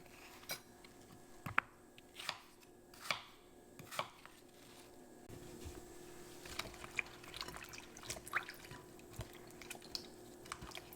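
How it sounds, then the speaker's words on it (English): Wild apples being peeled, cored and sliced with a knife: a run of crisp, close cutting taps and thuds, irregularly spaced and moderately loud, over a faint steady room hum. "So that was about 27 apples that I just peeled, cored, and sliced up for some simple syrup canning."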